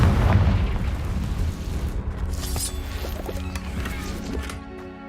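Confringo fire spell from the Hogwarts Legacy game bursting into a loud, rumbling explosion that fades into crackling debris and scattered impacts, with no talk over it.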